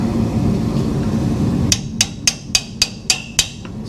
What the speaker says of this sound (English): Smack it up a little bit.